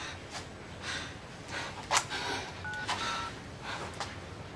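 A telephone number being dialed, heard as a few short, faint keypad tones in quick succession over a steady background hiss.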